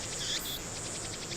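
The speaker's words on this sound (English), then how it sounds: "that cicada is ungodly loud" A loud summer cicada gives a steady, high, shimmering buzz with a pulsing texture. It sounds close and fills the whole clip with no speech.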